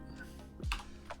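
Typing on a computer keyboard during a live quiz night stream, a few quick key clicks and a soft thump, close and faint, alone.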